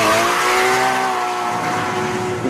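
A Porsche Cayman GTS engine pulls hard while being driven on track, a loud, steady, rising engine note with clear harmonic tones that holds throughout with no talking.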